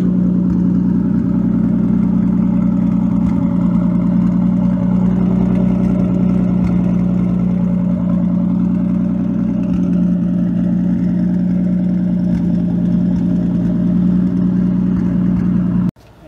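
A Nissan 240sx, right-hand drive, with a newly installed full 3-inch exhaust holds a loud, steady engine drone for about sixteen seconds, then cuts off abruptly at the end.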